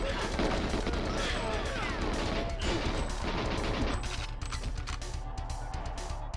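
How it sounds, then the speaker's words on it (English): Continuous AK assault rifle fire in the N64 game GoldenEye 007, dense rapid bursts of shots running without a break over a busy game soundtrack, loud and close throughout. "I'm pulling out the AK."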